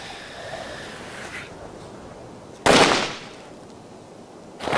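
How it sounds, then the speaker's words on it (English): A single sharp, loud firecracker bang bursts out of a quiet outdoor night background, followed by a second crack starting at the very end. "I throw a few firecrackers out the tent door into the dark"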